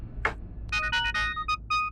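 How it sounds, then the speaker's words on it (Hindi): A phone ringtone plays for an incoming call from a doctor, sounding as a run of short bright electronic tones in broken bursts after a brief sharp blip, fairly loud against a low background hum. "रॉबी अंकल, डॉक्टर मेंडोजा का फोन"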